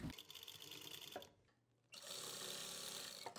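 A sewing machine runs steadily while stitching lace along the edge of a dupatta, a close continuous whirring buzz that pauses briefly and then resumes.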